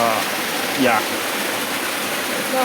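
A waterfall in a Thai plant collector's garden, with variegated philodendrons and monsteras growing up it, rushes steadily as a broad, continuous hiss, while people talk nearby.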